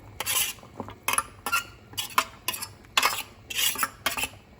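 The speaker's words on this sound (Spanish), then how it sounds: "Revolvemos un poquito" A utensil stirs kure mbaipy, a cornmeal dish with carrot and green onion, in a pot, making about eight crisp, rhythmic scraping strokes against the metal, close and clear with quiet gaps between them.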